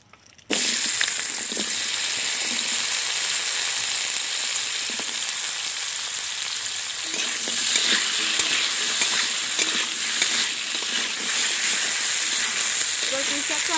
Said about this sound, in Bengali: চিংড়ি ভাজার তেলে এবার আমি পুঁইশাকটা ভালো করে ভেজে নেব।